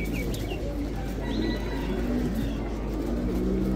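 Pigeons coo at a crowded bird market in Kadhimiya, Baghdad, soft repeated calls mixed with chirps over a steady hum of market crowd noise.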